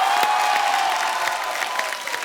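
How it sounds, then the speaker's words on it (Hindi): A studio audience at a Hindi comedy talk show applauds loudly and continuously as guests are welcomed, a dense wash of clapping with a faint sustained tone underneath that fades slightly toward the end. "आप सबकी जोरदार तालियों के बीच please welcome mister Nawazuddin Siddiqui"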